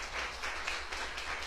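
A church congregation claps, with a dense, even wash of applause that lasts throughout and sounds moderately close.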